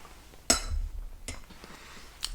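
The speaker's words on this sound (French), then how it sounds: "Je prends ma cuillère." A teaspoon clinks sharply as it is picked up, with one bright metallic tick followed by softer clicks and a faint final clink, close by in a quiet room.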